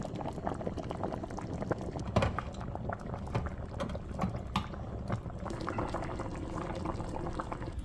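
A pot of pepper pot soup with spinners bubbles away, a dense steady burble of boiling liquid with soft pops and occasional clinks, heard up close and without talk.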